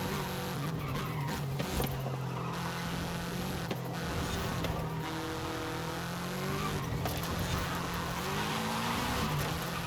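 A Subaru WRX under full throttle, its engine note rising steadily and pulling hard through short gear ratios, loud and continuous with road and tire noise beneath it.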